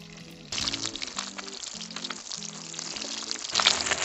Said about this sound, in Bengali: আমাদের মাছ দুটো লাল লাল কড়া কড়া করে ভাজা হয়ে গেছে